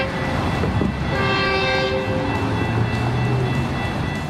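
A train at a station rolls past with a sustained horn-like tonal wail over a low rumble and rail noise, loud and fairly close, with no talking.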